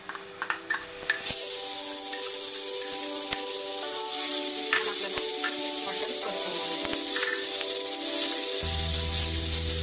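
A loud, steady sizzle of misal spice paste frying in a hot pan without oil, with a few scraping stirs at the start and the hiss continuing throughout.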